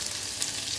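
Curry leaves sizzle in hot oil with onion, just after mustard seeds have popped, while a coconut-free Kerala pulissery is being cooked: a steady, close, bright frying crackle with no voices.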